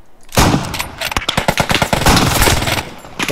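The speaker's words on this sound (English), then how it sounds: "It's a machine gun." Rapid machine gun fire in the World War II shooter game Post Scriptum, loud and close, with dense strings of sharp rounds rattling off continuously for a few seconds.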